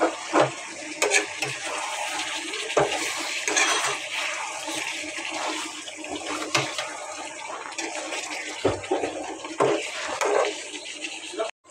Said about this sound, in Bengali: এখন আমি মাংসগুলো কষাই নিচ্ছি। মাংসগুলো কষা হোক ভালো মতো।